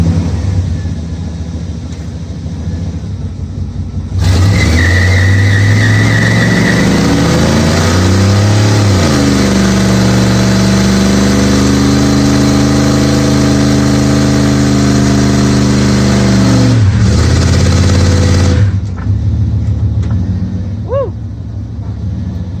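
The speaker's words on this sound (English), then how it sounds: "let's do a mini burnout with this thing." Engine of a daily-driven car revving hard for a short tire burnout, rising from idle to a loud sustained roar for about fourteen seconds, then dropping back to idle.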